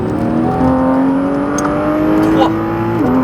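A Porsche 991 GT3 RS engine holds a high steady drone as it accelerates on a track, pitch climbing slowly, with a whirring tone over the top and no talking.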